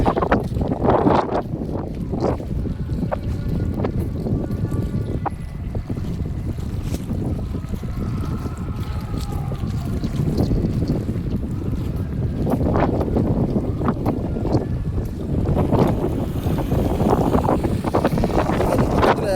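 Strong wind buffets the microphone in continuous rumbling gusts at Nainativu island, Sri Lanka, with water sloshing faintly beneath and a boat-like drone in the background.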